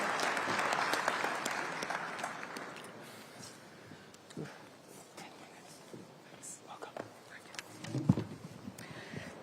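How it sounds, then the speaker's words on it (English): A conference audience at a regional industrialisation investment event gives a round of applause, with dense clapping at first that thins into scattered claps and murmurs. "Big round of applause for her."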